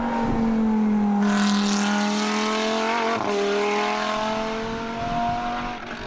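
Race cars, a Lamborghini Gallardo GT3 and Porsches, howl past on a circuit. One loud engine holds a high, rising tone, then another car's note sweeps past, and the sound fades slightly toward the end.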